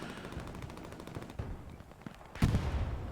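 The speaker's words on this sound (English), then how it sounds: "Artillery still shelling this." Artillery shelling in the World War II shooter Hell Let Loose, a rumble of distant rapid blasts that ends in a heavier, booming impact, with no talk.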